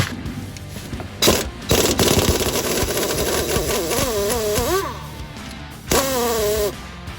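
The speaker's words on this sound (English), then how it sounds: "we used a 5/8" wrench and an impact to remove the 2 bolts connecting the steering gearbox to the chassis" An impact wrench removes the bolts holding a Ford Model A steering gearbox to the chassis in a garage, with loud rattling bursts and a whining rise and fall between clanks and scrapes of metal, close to the mic.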